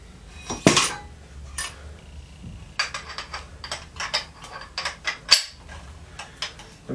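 A seal driver seats a seal on a motocross fork with sharp metallic clacks, one loud hit early on followed by a quick, uneven series of light taps, close and alone.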